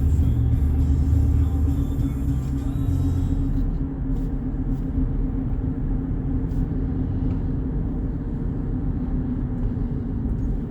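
A 2012 Buick Enclave driving at around 40 mph as it merges onto a highway, with a continuous low engine and road rumble from inside the cabin, steady in level and no one talking.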